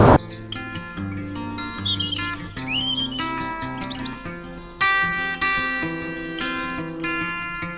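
Birds chirp and whistle in bright, varied calls in a garden centre woodland, several overlapping songs close by, with a louder burst of calling partway through.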